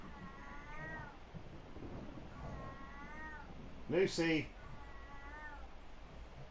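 In Vampire: The Masquerade, a cat gives three separate wavering meows spaced across a quiet backdrop, and a voice calls out once between the second and third.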